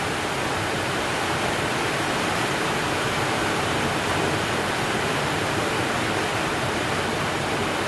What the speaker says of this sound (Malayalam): ഇനി ഞാൻ പറയണത് നിങ്ങൾ കേൾക്കില്ല കേട്ടോ, മഴയാണ്